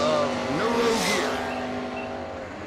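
A Dodge Avenger drag car launches down the strip, a loud engine roar with a quick rising rev sweep that fades as it pulls away, a commentator's voice running underneath.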